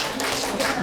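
Short burst of classroom applause, a quick patter of hand claps from a group of students, close and fairly loud, lasting under a second.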